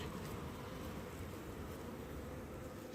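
A steady, dense buzzing of many honeybees at a hive in Canada fills the air, continuous and even, with no voices.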